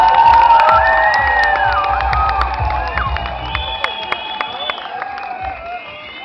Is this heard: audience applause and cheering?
yes